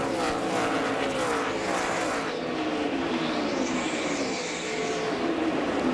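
NASCAR Busch Series stock cars racing in traffic under green at Dover, a continuous loud engine roar with pitch sweeping up and down as the pack passes, steady and without clear talk.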